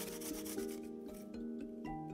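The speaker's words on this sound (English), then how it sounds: "Then, I'm gonna grate up the ginger as well." Fresh ginger is rubbed across a daikon grater in a kitchen, a soft, quiet rasping scrape repeating in short strokes, close by and without voices.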